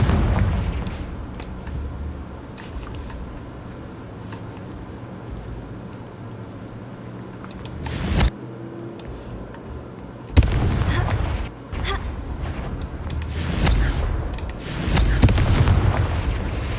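Fiery Confringo spell blasts go off in the Hogwarts Legacy wizarding game, several loud booming bursts over a constant rumbling battle din, with one sharp crack followed by dense crackling explosions.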